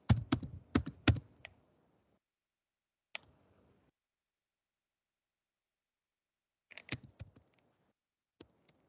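Keys on a computer keyboard are typed in short, close bursts of clicks separated by silent pauses, quiet and isolated.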